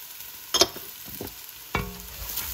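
Onions and spices sizzle steadily in a pan as a utensil stirs through them, with a few close scrapes and clatters over the continuous frying hiss.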